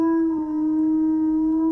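A dog howls in one long, steady, loud note with a clear tone, held alone across the whole stretch with no talk.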